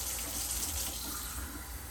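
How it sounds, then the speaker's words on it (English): Water poured into a pot of basmati rice: a continuous, fairly quiet splashing gush of running liquid, steady throughout with no voices. "So I'm going to put 2 cups of water."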